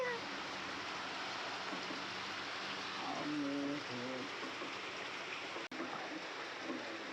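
Steady hiss of rain falling, constant and fairly close, with faint murmured voices partly beneath it.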